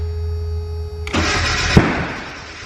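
Turbocharged Mazda Miata engine cranking on the starter, then catching with a loud sudden burst and a sharp backfire pop before settling into a rough, fading run, heard close with no talking.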